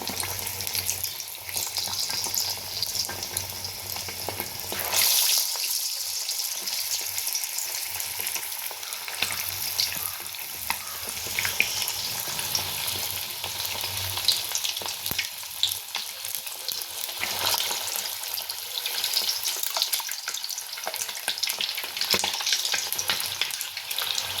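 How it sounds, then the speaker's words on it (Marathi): Chicken lollipop pieces fry in very hot oil, giving a continuous crackling sizzle that swells louder after the first five seconds and bubbles steadily throughout with no talking. "तेल चांगलं कडकडीत तापलंय. आता आपण एक लॉलीपॉपचे पीसेस त्यामध्ये टाकायचे."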